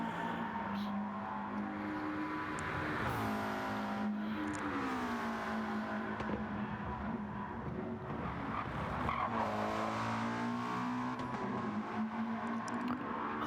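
A racing car in a racing video game slides and skids, tires squealing in long rising and falling whines over steady engine drone, moderately loud with several overlapping cars nearby.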